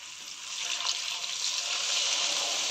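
Water streams into a pan of cooking ripe mango chutney with sugar syrup, a steady close hissing pour with a faint sizzle, no voices.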